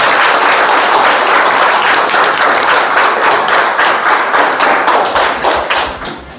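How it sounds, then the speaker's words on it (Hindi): Loud, close applause from a school audience at a quiz game event, many hands clapping vigorously in a dense burst that fades out toward the end. "एक बार जोरदार ताली बजाएंगे"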